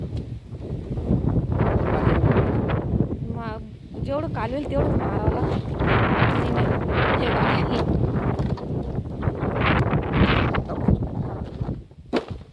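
Gusty wind in a maize field buffets the microphone in a constant low roar while a person talks intermittently over it.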